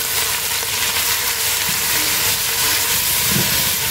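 Onions sizzling in hot oil in a kadai alongside coriander leaves and a handful of mint, a steady broadband frying hiss that stays loud and even throughout, no voices.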